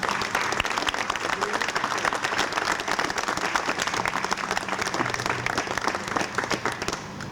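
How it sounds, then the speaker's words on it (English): Steady, full round of applause from an event crowd in Providence honoring a former governor, a dense wash of clapping sustained evenly for several seconds with no clear speech. "let's have a big round of applause"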